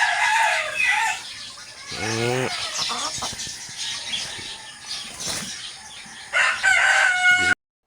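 Laying hen cackling loudly and close, with a rising squawk, wing flaps and rooster-like crowing calls over a rough outdoor background.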